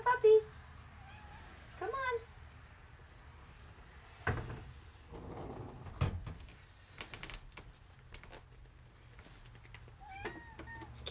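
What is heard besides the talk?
cat meowing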